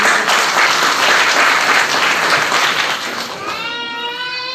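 An audience at a lake conservation event in Dharwad applauds with loud, dense, sustained clapping that gradually thins and fades toward the end.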